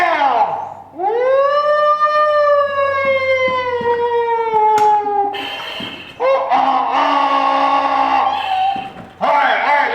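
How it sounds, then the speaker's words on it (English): A wailing siren rises and holds, then sounds again in several sustained bursts, loud and close. "we got to get that siren"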